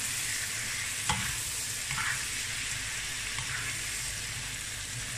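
Shrimp sizzle in butter with garlic in a hot pan, a steady close frying hiss with a few soft clicks and knocks of stirring.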